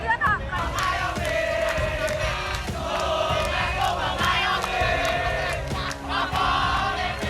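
A large crowd of protesters storming the parliament in Jakarta roars and shouts continuously, with dense overlapping yells and battle cries filling the scene at close range.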